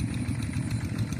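A tractor engine works a rice paddy, a steady mid-pitched idling chug with faint clatter, fairly close and continuous, with no voices.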